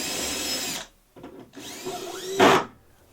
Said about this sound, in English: Now I bore the rest of the pilot holes using the self-centering bit.